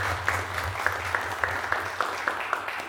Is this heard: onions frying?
no